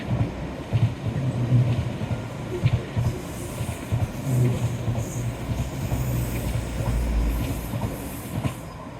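A train rumbles steadily past at moderate distance along the seafront in Teignmouth on a damp day, with a continuous low roar and faint rhythmic clatter of wheels over the track.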